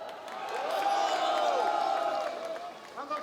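Crowd at a Democratic Party candlelight rally calling for the president's resignation, shouting together in a sustained swelling roar that peaks and fades over a few seconds.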